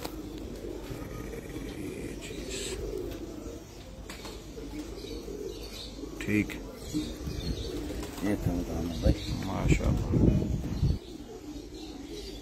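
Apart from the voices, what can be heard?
pigeons cooing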